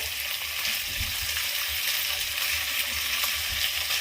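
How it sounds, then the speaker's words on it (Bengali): Spiced potato and pointed gourd fry sizzles steadily in a pan, with the occasional scrape and clink of a spatula stirring the mixture through a continuous hiss. "এটা একটু ঘন ঘন নেড়ে দিতে হবে, কারণ এটা মশলা মাখানো আছে"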